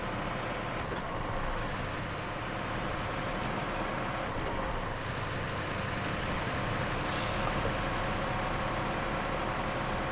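A Caterpillar CT681 truck driving in SnowRunner gives off a steady, broadband engine and road drone at a constant level, with a short hiss of air near the end.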